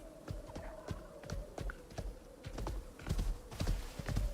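Horse hooves clip-clop at a steady walking rhythm while a player rides a mount in the survival game Icarus, close and moderately loud over a low constant hum, with no talking.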